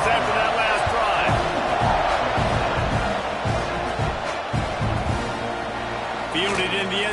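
A football stadium crowd in a college football video game, a continuous loud roar of cheering with rhythmic stomps and claps, while a commentator talks over it.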